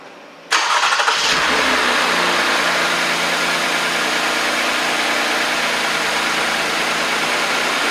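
A 2018 Toyota Camry's 2GR-FKS V6 cranks briefly and fires, then settles into a steady, close idle that runs alone and unbroken to the end.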